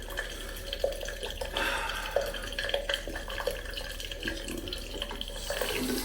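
Water runs steadily from a tap with a light splashing, dribbling texture and a few drip-like accents, fairly close, with no voices.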